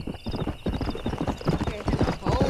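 Stallion's hooves clip-clopping in a steady trotting rhythm in Red Dead Redemption, close and loud, with a neigh and voices talking over it.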